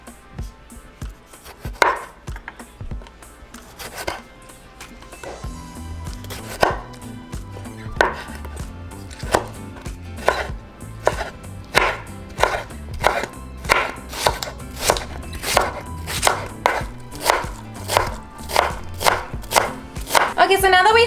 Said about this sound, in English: first we're going to start by chopping our tomato and onion